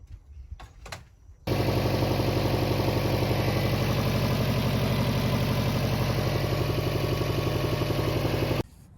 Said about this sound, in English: what we can do now is start the engine